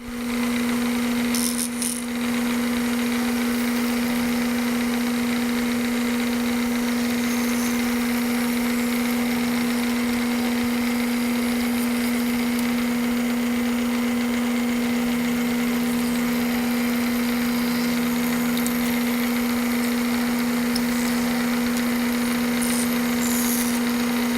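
A milling machine at 2,000 RPM makes a final pass on a Kurt vise speed handle, a steady loud droning hum with a constant tone that runs unbroken throughout, no talk.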